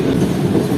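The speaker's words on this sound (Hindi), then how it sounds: "तभी ट्रेन जो है वो यार्ड की स्पीड को फॉलो करते हुए आगे बढ़ रही है" The Sir Syed Express, a Pakistani passenger train on the Rawalpindi to Karachi route, rolls slowly through a railway yard with a loud, close, steady low rumble of wheels and carriages.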